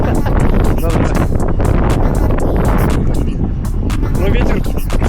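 Steady, loud wind buffets the microphone at an outdoor flying field where long-range FPV drones fly, a constant broadband roar throughout with people talking over it.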